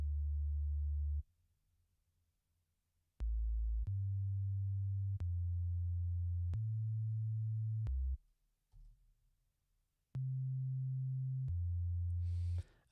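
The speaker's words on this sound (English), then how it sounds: "Get a really plain sounding sine wave." Plain synthesized sine wave tones used as a sub layer in a music mix, a series of low, pure, sustained notes of varying pitch separated by short near-silent gaps.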